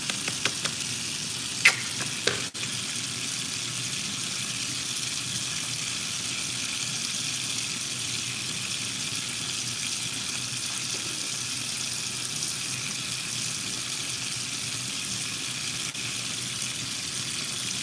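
Steady hiss of water running from a tap, constant and fairly close, continuing unbroken with a few small clicks near the start and no talk.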